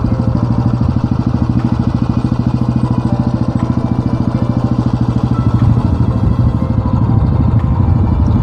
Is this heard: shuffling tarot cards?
no